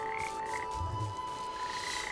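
A frog in the video game Papo & Yo croaks in one short, low, throaty burst against a steady ambient game backdrop.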